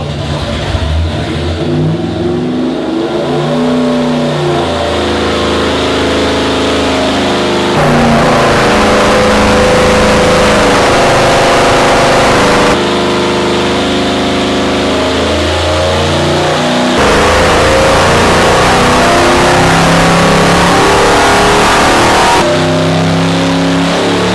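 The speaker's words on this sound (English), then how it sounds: "This is a 300 horsepower engine." A Ford 351 Cleveland V8 in a Mad Max Interceptor revs hard on a dyno, loud and close, with repeated rising pulls and abrupt shifts in pitch and level across several runs.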